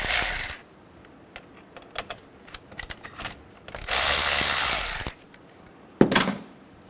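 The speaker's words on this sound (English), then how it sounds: "Using a 10mm socket, loosen the negative and positive battery terminals." A ratchet with a 10mm socket loosens the battery terminals on a Hyundai Sonata, giving short bursts of rapid clicking separated by pauses and light handling noises, close and clear.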